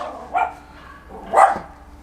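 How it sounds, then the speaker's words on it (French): A small dog lets out two sharp barks about a second apart, close by in a quiet room on a job site where PEHD drainage pipe is being butt-welded. "Je vais laisser mon petit chien faire son show."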